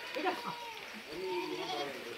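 Goats being let out in the rain at a hillside village bleat, with several wavering calls close by, one after another, over a background of rain hiss.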